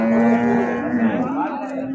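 A dairy cow close by gives one long, steady moo that bends slightly in pitch, loud and alone for about two seconds.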